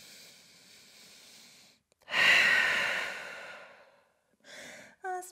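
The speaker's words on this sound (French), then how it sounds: "Grande respiration ici." A deep breath during a floor-based vinyasa yoga stretching session: one long, close, forceful exhale like a heavy sigh follows a quiet stretch, with softer short breaths after it.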